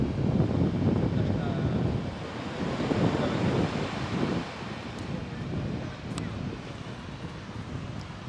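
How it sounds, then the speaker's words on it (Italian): A waterfall near Villalago, a steady broadband roar of rushing, splashing water that fills the scene continuously, easing slightly toward the end. "Guarda che la cascata."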